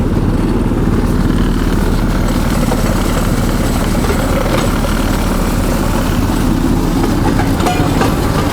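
Motor draisine riding along a narrow-gauge railway, a loud continuous engine drone with rumbling wheel and rail noise, steady and close throughout with no pauses.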